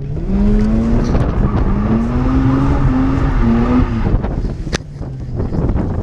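A Mazda RX8 driven by a 10-year-old at drift practice, its engine revving hard and loud and close for the whole stretch. The pitch climbs and falls as the throttle changes, with a brief dip near the end.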